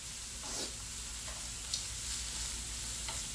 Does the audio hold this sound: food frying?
yes